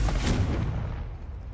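A Confringo blasting curse goes off in Hogwarts Legacy as a single heavy explosive boom, loud and close, with a low rumbling tail that fades over about a second.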